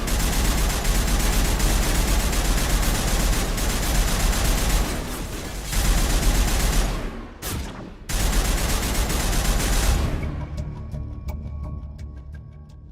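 Sustained, loud gunfire from a firefight in the video game Mass Effect 1, made up of continuous rapid volleys with a brief gap partway through. The shooting then thins into scattered distant shots near the end.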